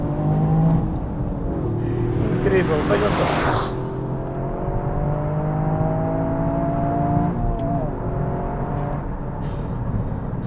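A Toyota GR Yaris with a 261 hp three-cylinder engine accelerates hard, its engine note climbing in pitch through several gear changes. Someone talks briefly over the engine.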